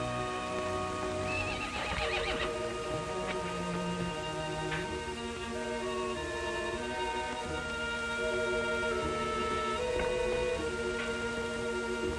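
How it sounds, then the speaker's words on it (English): A horse whinnies with high, shaky neighs over a dense bed of music, with a few repeated calls across the passage. "It's your horse, standing out there as pretty as can be."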